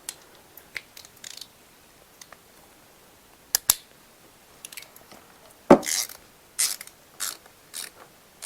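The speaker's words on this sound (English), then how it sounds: "Actually, I'm going to use a 1/4-inch ratchet." A 1/4-inch ratchet tightens bolts on a Volvo 2.5T engine during a cam seal replacement, with sparse clicking pawl ticks followed by several louder bursts of quick ratcheting, close and alone.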